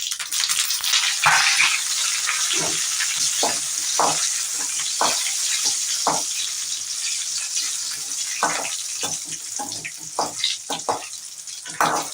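Dried chillies and curry leaves crackle and sizzle in hot oil, with a steady bright frying hiss broken by frequent sharp pops and spatters, close and fairly loud throughout.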